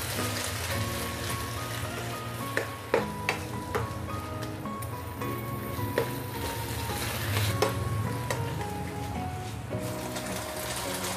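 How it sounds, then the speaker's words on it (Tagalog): Beef and onion stir-fry stirred in a hot pan with soy sauce and oyster sauce, a steady close sizzle with scattered scraping and tapping of a spatula against metal. "Haluin natin."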